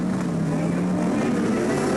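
Touring car engines from the 1988 ATCC round 7 at Sandown hold a loud, steady high-revving drone as the front-row cars bring up the revs before the start, continuous and close throughout.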